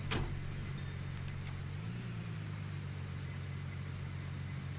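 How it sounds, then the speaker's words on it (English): A vehicle engine idles in the Gold Rush video game, a steady low rumbling hum that holds evenly throughout and stays alone with no talk over it. "let's turn off the engine"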